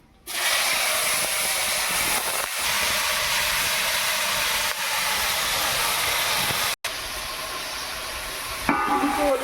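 Jujubes dropped into hot oil tempered with whole cumin, bay leaf and dried chilli, giving a loud, steady broadband sizzle that runs almost unbroken for several seconds, with brief dips where the pan is stirred.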